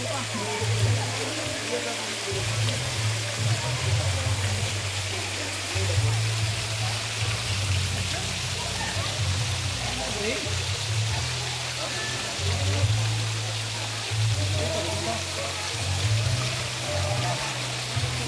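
Water flows continuously at Biong Cold Spring in Barcelona, Sorsogon, a steady rushing splash like a small stream or spout, with a low rumble underneath and people chatting nearby.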